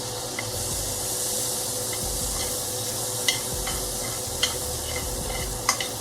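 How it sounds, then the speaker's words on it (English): Garlic butter sizzles in a hot pan over medium heat, a steady close frying hiss with occasional sharp pops and crackles, no talking. "I'll throw some pieces of garlic butter in there to try to get up some of that seasoning"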